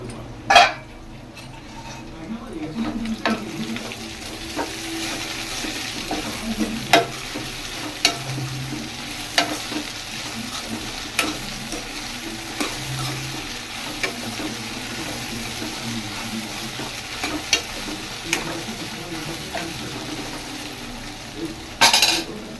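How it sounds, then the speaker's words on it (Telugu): Raw banana curry with masala simmers covered in a pan on a low flame, giving a soft, continuous frying sizzle with scattered small clicks and a few pot clinks, no talking. "మూత పెట్టి ఒక 5 నుంచి 6 నిమిషాల వరకు మంచిగా స్టవ్ సిమ్లో పెట్టి అరటికాయని మగ్గనియ్యాలి"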